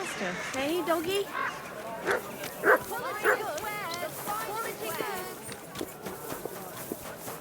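A dog in Kingdom Come Deliverance 2 gives short barks, yips and whimpers, mixed with someone talking over it.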